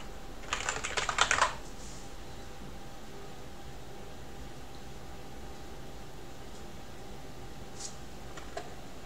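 A quick, close burst of computer keyboard typing enters a terminal command on an Artix Linux system. It is followed by quiet room hum and a couple of faint key clicks near the end.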